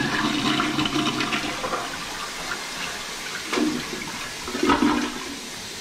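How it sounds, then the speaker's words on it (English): A toilet being flushed during work on a clogged drain gives a steady, nearby rush of swirling water. It swells in a couple of gurgling surges as the bowl drains, with no talking over it. "Poop went down, toilet went down."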